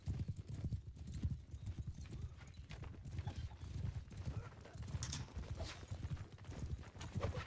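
Horse hooves clip-clop in a steady galloping rhythm in a multiplayer medieval combat video game, with a brief whinny, while a commentator talks over the action.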